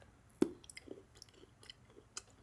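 Someone chews a Rice Krispie chocolate Easter candy much like a Crunch Bar, giving one sharp bite followed by soft, close, irregular crunching and mouth clicks with no talking.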